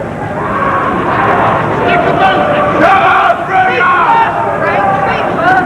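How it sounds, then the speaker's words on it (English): A boxing arena crowd at the James "Bonecrusher" Smith vs Frank Bruno fight keeps up a dense, loud roar, while a commentator talks over it throughout. "anything he does is going to draw a roar from this crowd"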